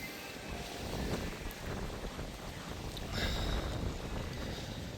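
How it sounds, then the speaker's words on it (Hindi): Steady wind buffets the microphone on a scenic coastal road along the Konkan coast, a continuous low rushing roar that swells slightly midway, with no voices. "क्या मस्त हवा चल रही है यहाँ पे।"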